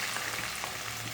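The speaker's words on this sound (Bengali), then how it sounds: "পেঁয়াজ কুচিগুলো একটু ভেজে নেব" Chopped onions frying in hot mustard oil in a pan, a soft, steady sizzle with faint crackling, brief and fairly quiet with no voices.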